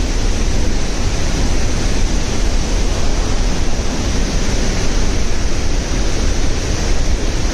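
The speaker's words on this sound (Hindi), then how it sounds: "तूफान के साथ पानी के साथ हवा आ रही है" Wind-driven spray and roaring water at Athirappilly waterfall in Kerala form a loud, unbroken hiss close to the microphone, with no talking.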